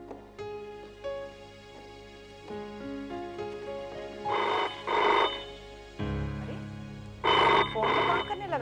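A telephone rings in a horror drama scene, two pairs of loud electronic bell bursts over background music, each ring a short doubled trill with a pause between.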